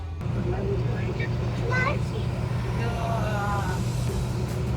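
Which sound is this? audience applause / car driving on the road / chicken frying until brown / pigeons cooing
car driving on the road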